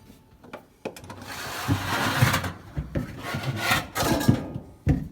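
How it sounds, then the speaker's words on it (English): Back panel being removed from a refrigerator: quiet rubbing, scraping and dull knocks of panel against the housing, irregular and close, with brief handling thumps and no talking. "To be able to access the defrost tray a little easier, we're removing this back panel."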